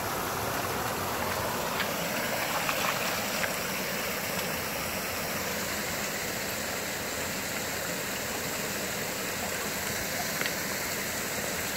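A waterfall rushes in a snowy wilderness, giving a continuous, fairly faint and even roar of falling water that never breaks or changes, with no talking.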